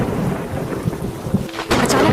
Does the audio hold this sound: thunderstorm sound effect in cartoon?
yes